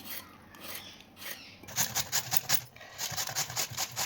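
Peeled carrots are finely grated on a grater for carrot halwa, giving rhythmic rasping strokes that grow firmer and faster midway, each scrape close and distinct, with no voices.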